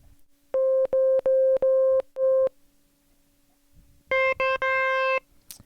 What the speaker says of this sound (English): we'll just hear the Moog werkstatt